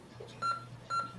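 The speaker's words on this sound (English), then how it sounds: "Made beepy noise. Beep, beep," A retro Apple computer gives two short, clear electronic beeps about half a second apart over a quiet background hum, alone with no talk.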